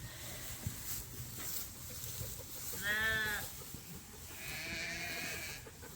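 A sheep bleats once loudly nearby on a sheep farm, a wavering cry, with a second fainter bleat later over a steady outdoor background.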